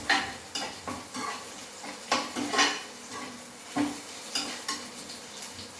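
Onions frying in a pan while being stirred for a Tamil urundai kuzhambu, a low sizzle broken by repeated scrapes and clinks of a spoon against the metal, close and unhurried, with no speech.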